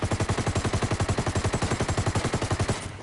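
Automatic gunfire in Ghost Recon Wildlands, fired without any recoil control: one loud, sustained burst of rapid, evenly spaced shots about ten per second, running steadily for three seconds with no talking.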